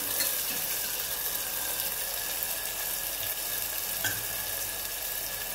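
Chopped onion and tomato sauté in hot oil in a home kitchen pan, giving a steady, close sizzling hiss that runs evenly throughout with no voices.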